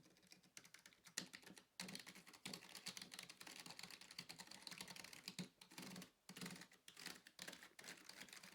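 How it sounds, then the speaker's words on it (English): Mock typing on a Dell KB216 multimedia keyboard set on a desk with silicone feet, giving fast, dense keystroke clatter in uneven bursts with a few brief pauses, close and fairly quiet. "and just mock typing"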